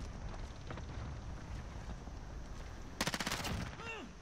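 Shotgun blasts in a first-person shooter match in a shoot house map, a quick burst of several loud, closely spaced booming shots near the end, over a steady bed of distant game noise and rumble.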